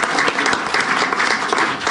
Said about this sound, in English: I'd like to thank our 3 panelists and give them a round of applause